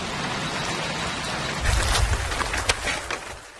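Sudden rain falling as a dense hiss of drops, swelling louder partway through with a few sharper splashes, no voices.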